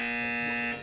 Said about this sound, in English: Fate Academy has hit the buzzer first.